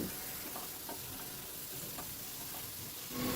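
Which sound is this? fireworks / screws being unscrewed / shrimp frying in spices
shrimp frying in spices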